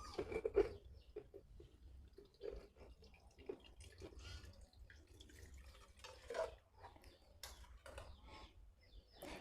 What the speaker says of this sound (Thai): หลังจากนั้นนะคะเดี๋ยวเราจะใส่น้ำเกลือลงไป